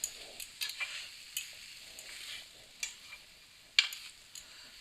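French toast fries in a pan with a faint, low sizzle, broken by occasional sharp taps and scrapes of a utensil against the pan.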